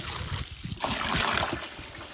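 Tomatoes are rinsed under running water, giving a close, continuous splashing trickle with small sloshing bursts and no talk.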